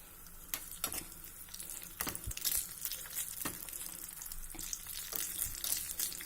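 Cashews and raisins frying in a pan for foxtail millet kheer, a steady close sizzle with scattered sharp crackles and stirring clicks throughout, no talk.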